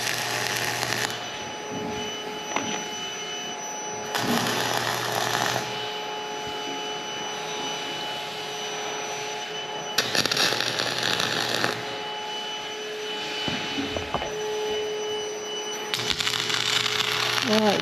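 Gas torch heating a metal part before welding, a harsh broadband roaring hiss coming in bursts of a couple of seconds separated by quieter gaps, with someone talking in between.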